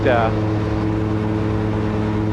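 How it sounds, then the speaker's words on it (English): A seaplane engine roars steadily and loud on the water, a constant droning thrust with a brief higher whine at the start as it throttles up. "Now we're throttling up"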